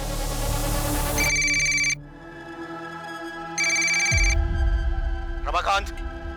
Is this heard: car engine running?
no